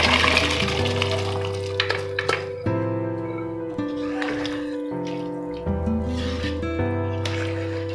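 Boiled groundnuts poured along with their cooking water into a pot of kulambu, sloshing liquid and wet splashes close up, with tonal ringing from the cookware beneath.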